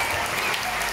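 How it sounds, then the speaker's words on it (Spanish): A Sonsonate, El Salvador oratory contest audience gives a jury member a dense, steady round of applause, a continuous wash of many hands clapping with no break. "Recibámosla con un aplauso."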